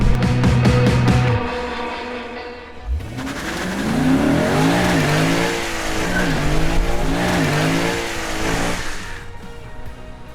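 A loud Lexus IS500 V8 engine revs hard during a line-lock burnout and holds a steady roar, with rising and falling pitch over several seconds, after a brief cut from an earlier idle.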